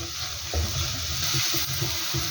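Onions and green chilies sizzle in a pan for okra stew while being stirred, a constant frying hiss broken by soft scraping and stirring knocks.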